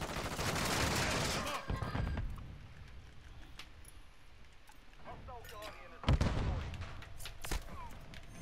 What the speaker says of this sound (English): I'm using an LMG right now